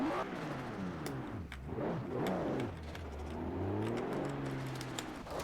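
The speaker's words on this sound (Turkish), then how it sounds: "Turbosu ötüyor bak." A 2002 Nissan Skyline GT-R R34 V-Spec II in Forza Horizon 4, its turbocharged engine revving up and down repeatedly with a whistling edge, heard up close and alone.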